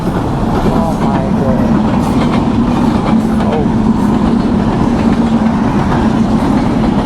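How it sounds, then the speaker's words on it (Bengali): A train rumbles steadily past at close range across the Boral Bridge, with a continuous low roar and faint rhythmic clatter of wheels on track throughout. "এই যে কি সুন্দর ট্রেন"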